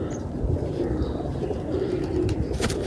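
A pigeon coos in soft, low repeated murmurs close by, with faint rustling and outdoor background around it and no clear speech.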